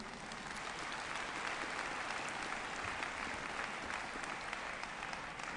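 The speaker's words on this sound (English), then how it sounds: "I didn't hear that round of applause, ladies and gentlemen." Steady, dense applause from a large audience at the CITES COP17 conference opening ceremony, continuous and even throughout with no voices rising above it.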